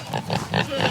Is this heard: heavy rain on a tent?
no